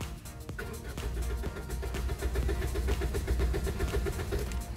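A 2006 Scion xB engine cranks steadily for several seconds without catching while its fuel system is depressurized, a close, loud starter churn with a rapid even pulsing rhythm.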